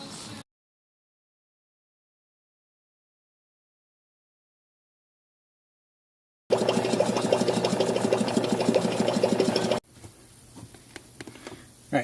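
A vacuum pump evacuates the air-conditioning system of a Porsche 928, giving a steady, loud mechanical drone that runs for about three seconds after a long silence and then cuts off, leaving faint background noise.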